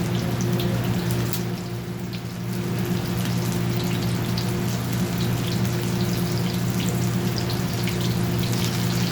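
Steady running water from a kitchen tap during hand washing after breading chicken, a continuous broadband splashing hiss with a low steady hum underneath, close and uninterrupted throughout.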